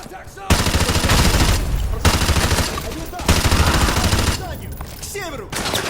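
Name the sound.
gunfire in video game Call of Duty Modern Warfare 2 Remastered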